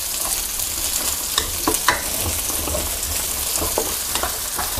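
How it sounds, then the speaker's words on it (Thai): Sliced onion and garlic stir-fry in a hot wok, giving a loud, continuous sizzle broken by repeated scraping and clattering strokes of the spatula, with no voices. "ผัดให้หอมสุกเลยครับ"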